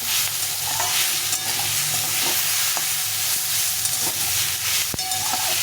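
Vegetables for a Bengali shukto, raw banana and drumstick among them, fry in a pan with a steady close sizzle and occasional stirring scrapes, with no voices.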